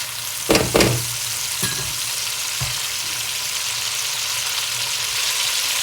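Tomato tadka frying in a handi for kadhi pakora, a steady close sizzle with a few sharp clatters of stirring near the start, continuing alone without talk.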